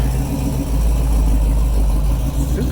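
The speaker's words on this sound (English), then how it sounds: "super loud muscle car." A super loud muscle car passing on a road trip near Topeka, a heavy, steady low engine rumble filling the short stretch, loud and close with no voices.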